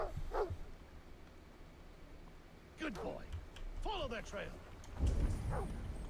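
A few short dog barks and yips from the video game Assassin's Creed Valhalla, sounding synthetic and game-like, with a speaking voice over them.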